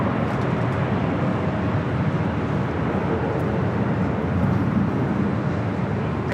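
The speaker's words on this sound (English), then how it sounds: "KLM Flight 601 coming up from Amsterdam, arriving there on the south side, 25 left." A KLM jet from Amsterdam landing at Los Angeles International Airport on runway 25 left, a loud, steady broadband engine roar, heard continuously and without a break.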